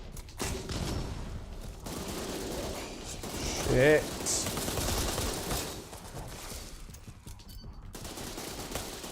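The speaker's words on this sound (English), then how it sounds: "I can hear some gunfire." Multiplayer Resident Evil Re:Verse match with bursts of game gunfire and muffled shots beneath a player's continuous talking, one louder spike standing out among steady background combat noise.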